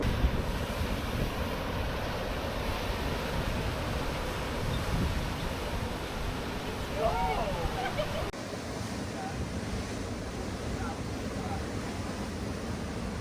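High ocean waves break on the shore along a coastal walk near Sydney, a loud continuous roar and wash with wind buffeting the microphone throughout.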